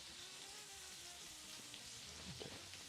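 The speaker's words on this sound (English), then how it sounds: "Get a couple more pork chops in here. We just want to like get a good sear on them." Pork chops searing in a frying pan make a dense, continuous sizzle close by, with a few brief crackles toward the end and no one speaking.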